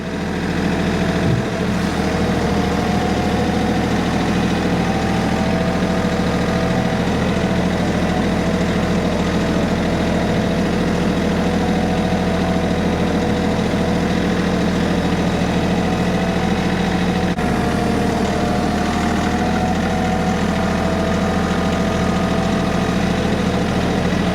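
A tractor engine fitted with a Tomahawk snow plow attachment runs at a steady idle on a gravel drive, a loud continuous low rumble and vibration with no talking.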